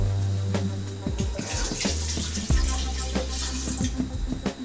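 Water poured from a measuring cup over raw chicken in a karahi on high heat, splashing and trickling in bursts with a steady low hum beneath.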